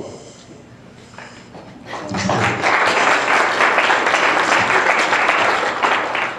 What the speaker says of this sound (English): I'm not going to say hold your applause because I like hearing it up here too